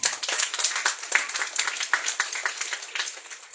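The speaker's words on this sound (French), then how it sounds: "On peut l'acclamer." An audience at a religious evening vigil for the Assumption claps in a brisk, dense patter of many hands, fairly close and continuous for a few seconds, with no voices over it.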